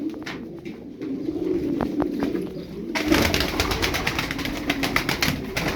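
Tumbler pigeons cooing, low soft coos under a crowd of birds, with fluttering and rustling that grows busier and louder in the second half.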